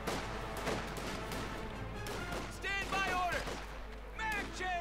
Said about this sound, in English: Sniper here firing away